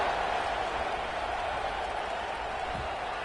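A stadium crowd at a football game buzzes after a score, giving a steady, broad roar of many voices that holds for several seconds at moderate level.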